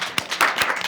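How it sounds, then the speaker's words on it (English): Audience applause at a youth and ethical business breakout session, a brief burst of clapping hands with several sharp claps standing out over a dense patter. "Can we have a round of applause?"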